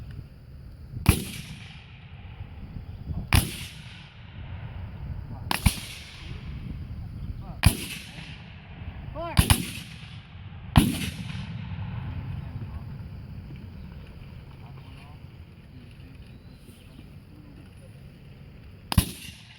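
Sharp booming volleys of blank-loaded black powder muskets from a Civil War infantry demonstration at Gettysburg ring out one after another at irregular intervals, each echoing away, with faint voices and shuffling between shots.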